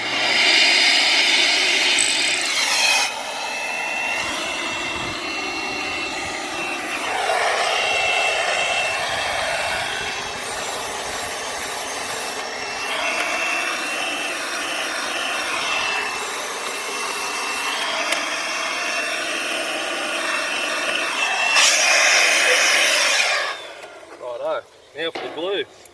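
Compressed air blowing out a drilled hole in concrete before setting a tie-down bolt: a steady, loud hiss rising and falling in bursts for over twenty seconds, then cutting off.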